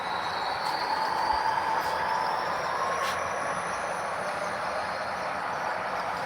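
A model train runs along the track of a Union Pacific Evanston Subdivision layout, giving a steady whirring hum laced with a thin, high squeal from the wheels, continuous and close, with no voices.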